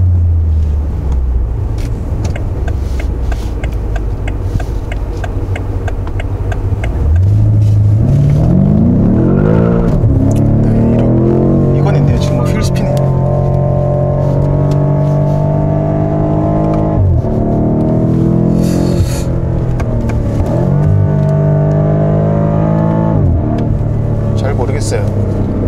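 BMW M5 F90 sports sedan on a test drive, engine note climbing and falling through several gear changes as it accelerates hard, loud and close from inside the cabin.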